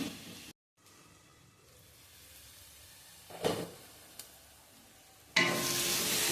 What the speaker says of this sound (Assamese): বিলাহী কেঁচা গোন্ধটো যোৱালৈকে ভাজি লওঁ।